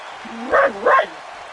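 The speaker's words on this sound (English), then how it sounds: "still just barking up a storm" A dog barks twice in quick succession indoors, two loud, close woofs with no talking over them.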